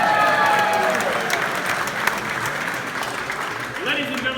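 An audience applauds for Miss Nancy at the Peabody Hotel, a broad wash of clapping that starts strong and slowly thins, with voices mixed in beneath it.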